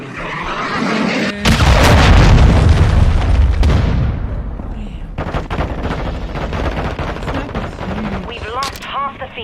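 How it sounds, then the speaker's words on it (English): Cruise missile strike explosions in Modern Warfare 2 multiplayer: a sudden heavy blast followed by rolling booms and scattered gunfire that trail off, with crackling debris and a voice near the end. "cruise missile approaching target"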